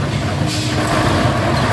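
Dump truck engine rumbling steadily and loud while helping push a stuck truck during a roadside truck recovery on a hill climb, with a continuous low diesel drone and broad road noise throughout.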